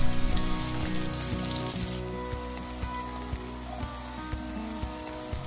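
Onions, ginger and chilies frying in oil in a frying pan, a steady, fairly quiet sizzle with small pops and crackles throughout.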